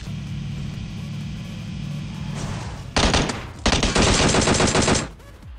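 Gunfire in PUBG Mobile: after a steady low vehicle-like hum, two loud bursts of rapid automatic shots crack out close by, the second longer, then fade.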